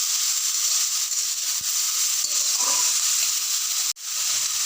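Onion, potato and bitter gourd fry in a wok in a steady, loud broadband sizzle, with a couple of soft stirring knocks and a brief dip near the end before the hiss resumes.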